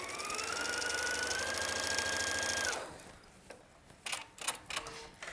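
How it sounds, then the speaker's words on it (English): A sewing machine stitches a garment yoke seam at a 5/8 allowance, a loud steady whirring run close by that stops partway, followed by a few soft handling clicks and taps. "now I'm going to just sew this at a normal 5/8"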